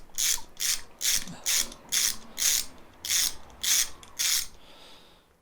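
Ratchet of a socket wrench clicks in nine quick, evenly spaced bursts while backing out the valve covers on a Kranzle pressure washer. The bursts are close, crisp and fairly loud, with no talk.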